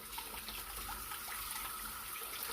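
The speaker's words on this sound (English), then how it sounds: "So he's going to wash his hands in some muddy water." Hands being washed under running tap water while mixing banana bread by hand, a steady close splashing stream with no talk.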